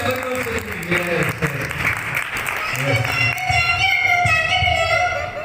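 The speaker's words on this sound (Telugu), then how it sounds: "ఓకే ఒకసారి పిక్కి క్లాప్ కొడదామా?" Children clap together during a puppet show, a burst of scattered applause mixed with voices talking over it nearby.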